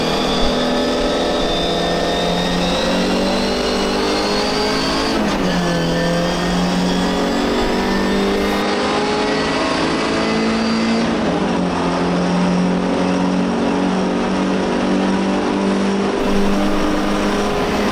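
An MGB GT race car at full throttle on the Silverstone Grand Prix circuit, its engine a loud, steady in-car drone with harmonic pitch shifts through gear changes and corners, continuous for the whole stretch with no talk.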